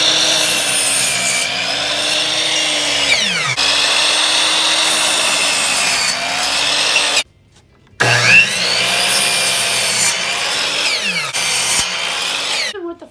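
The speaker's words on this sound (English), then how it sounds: "We're going to use the miter saw, which you can set as a 45-degree angle automatically to get the perfect angle." A miter saw set to 45 degrees slices through wooden boards for a birdhouse A-frame, its motor whining loudly through one long cut, falling silent briefly, then spinning up for a second cut.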